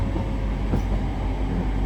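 Northern Trains class 323 electric train on the move, a steady low rumble of wheels and motors with a faint hum, heard from on board and continuous throughout with no talk.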